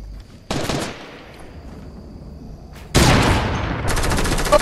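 Bursts of rapid automatic gunfire from a Fortnite match, a short loud volley followed by a longer sustained burst at close range, with no talking over it.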